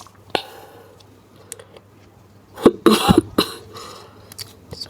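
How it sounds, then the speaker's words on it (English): A close, sharp cough bursts out after a brief quiet, with a couple of smaller throat sounds trailing it. "Sorry about the cough"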